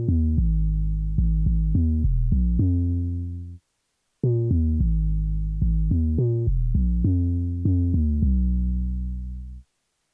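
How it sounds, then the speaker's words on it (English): An unprocessed 808 bass in Beatmaker 3 plays a clean, deep melodic pattern in two loud phrases of sustained, gliding notes with a short gap between them, alone without any voices. "Here's how my 808 bass sounds on its own."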